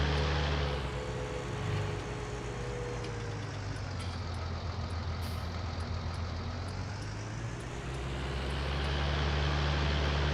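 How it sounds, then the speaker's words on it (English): A tractor engine drives continuously in a farming video game, a loud steady droning rumble that rises and falls slightly over about ten seconds, heard alone. "This tractor sounds nice."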